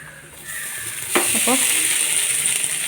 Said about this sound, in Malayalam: ഒരു കപ്പ് കുത്തരി ചോറാണ് ഞാൻ ഇതിലേക്ക് ഇടാൻ പോകുന്നത്